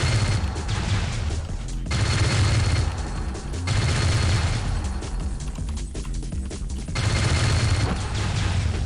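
Sustained gunfire from the space combat video game StarLancer, loud bursts of rapid shots with booming blasts repeating in waves across the whole stretch, with no talking.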